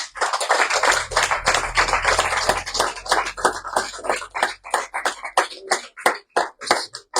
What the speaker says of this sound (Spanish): ¿Cuánto le podemos dar un aplauso al Señor?